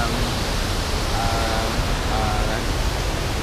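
Steady broadband rush of water pouring at Bato Falls, also called Twin Falls, a continuous loud wash filling the whole stretch with no breaks and no talk over it.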